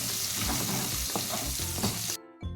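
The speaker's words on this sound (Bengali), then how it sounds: "এবার কিছুটা পেঁয়াজ কুচি অ্যাড করে দিয়ে লাল লাল করে ভেজে নেব" Chopped onion is fried in hot oil with whole garam masala and a bay leaf, giving a busy, close sizzle with stirring scrapes that cuts off abruptly near the end.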